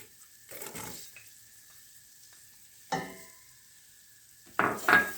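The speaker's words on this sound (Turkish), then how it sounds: "Pembeleşene kadar soğan, soğanımı da kavuracağım." Onions and garlic sauté in a pot for a homemade omaç soup, in three short bursts of sizzling and stirring, each swelling then fading into near silence.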